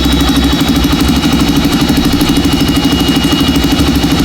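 An idling Yamaha RS200 motorcycle with a newly fitted radiator and fresh coolant runs steadily up close, its electric cooling fan whirring continuously within the even engine drone.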